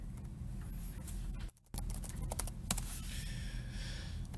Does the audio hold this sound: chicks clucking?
no